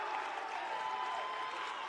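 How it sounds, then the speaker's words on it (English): A basketball crowd in a college basketball center cheers and applauds, a dense, steady roar of clapping and shouting with an announcer's voice faintly underneath. "And this crowd has come alive here inside the basketball center."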